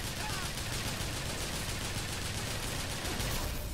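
Steady, continuous rattle of automated turret gunfire in Bioshock Infinite's Burial at Sea, a dense unbroken stream of shots, fairly close, with a voice talking over it.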